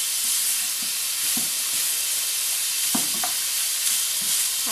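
Minced meat browns in a Cookeo pot, a steady hissing sizzle under scattered scraping stir sounds from a utensil, close and continuous with no talking.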